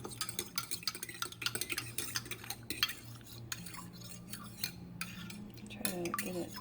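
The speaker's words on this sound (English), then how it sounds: "I just stir it up." A fork stirs a yogurt mixture in a bowl, making quick, steady scraping and clinking against the dish, faint and close up, with no voices.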